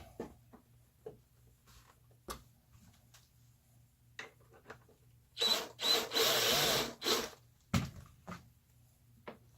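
A power drill whirs in a couple of short bursts driving drywall screws with the clutch set to zero, surrounded by quiet taps and knocks of handling at close range.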